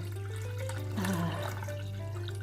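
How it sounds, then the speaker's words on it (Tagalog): Tap water runs steadily into a cooking pot being half-filled for fondue chinoise broth, a continuous wash of pouring over a low hum, close and moderately loud. "ngayon maglagay lang tayo dito sa lutuan na ito ng kalahating tubig"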